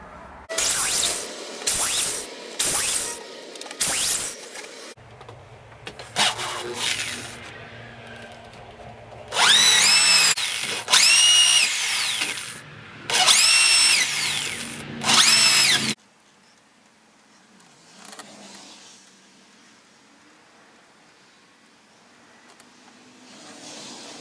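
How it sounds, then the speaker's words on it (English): A power drill cuts plugs from wood for a stool in several loud bursts of high whine, each a few seconds long, with pauses between, then a quiet stretch of low rumble at the end. "Now I'm going to cut some plugs."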